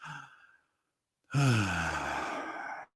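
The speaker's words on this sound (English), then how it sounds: "Maybe we sit and we take 3 deep breaths." A person takes a deep breath: a short intake, a second of silence, then a long, loud, voiced exhale like a sigh, close to the microphone.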